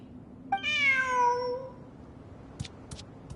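A cat in the Genshin Impact game lets out one drawn-out, rising-then-falling meow, loud and close, followed by a few faint clicks over a low ambient hum.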